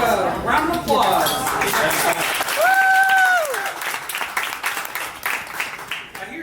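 Audience clapping at a literary reading during the UA Lit Crawl, a continuous crowd applause with a brief bright ringing tone partway through and voices over it.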